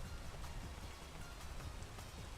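Rain falling in the video game PEAK, a soft, even patter of raindrops forming a faint continuous wash.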